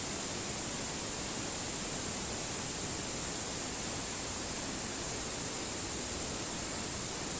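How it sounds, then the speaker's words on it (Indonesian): A river at the Kalijompo plantation in Jember rushes by in a steady, even hiss of flowing water. The sound is soft and unbroken, with no voices. "menikmati aliran sungai"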